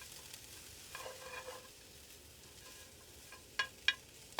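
Shredded carrots sizzle softly in a hot sprayed pan and are stirred, a faint steady frying hiss broken by a few light scraping taps near the end.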